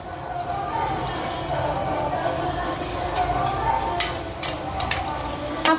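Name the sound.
onions and green chillies frying in hot oil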